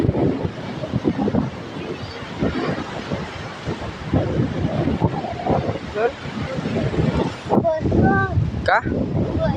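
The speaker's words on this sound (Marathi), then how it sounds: "समुद्र आहे." Sea at a village shore with a strong wind, a loud continuous roar and rumble of wind buffeting the microphone, with people talking over it throughout.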